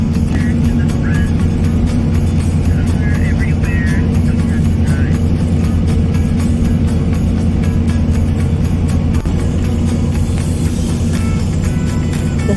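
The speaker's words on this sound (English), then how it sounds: "as we drove along the Richardson Highway" Car driving along the Richardson Highway in autumn Alaska, a steady loud interior road and engine drone that holds constant throughout with no talk.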